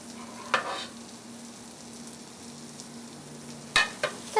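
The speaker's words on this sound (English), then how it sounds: "I'm just going to give these mushrooms a toss." Mushrooms saute in a pan after browning and a sprinkle of kosher salt, sizzling steadily up close, with a tossing scrape near the start and two more sharp stirring clatters toward the end.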